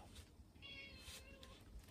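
A house cat meows softly in a short, faint call heard over a steady background hum, with no talk.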